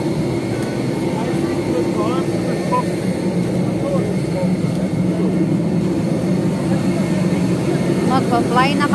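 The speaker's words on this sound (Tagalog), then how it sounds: "Sakay na kami ng eroplano." An airplane's engines make a steady, loud, low droning hum, heard continuously with people talking in the background.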